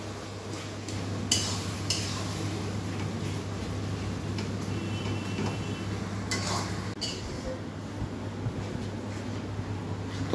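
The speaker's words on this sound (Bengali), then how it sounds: "একটু ভালো করে কষে নিচ্ছে মশলাগুলো দিয়ে" Spices frying with onion, ginger and garlic in a pan, a low steady sizzle under scattered clinks and scrapes of a stirring utensil against the pan.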